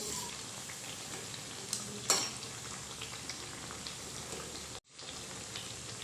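Poha and potato mathri fry undisturbed in oil over a high flame, giving a soft, even, rain-like sizzle with a couple of faint clinks and a short cut-out near the end.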